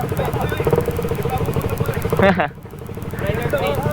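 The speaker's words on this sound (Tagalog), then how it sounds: "ito daw, bagong motor" A new motorcycle idles close by at the start of a group enjoyment ride in Pangasinan, its steady mid-pitched engine throb running continuously under loud nearby talk, with a brief clattering burst midway.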